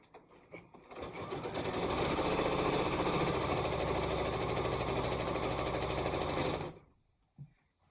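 A sewing machine stitches fabric in one continuous run of about six seconds, a loud, close, rapid mechanical whir and clatter. A brief soft knock follows after it stops, and no one speaks.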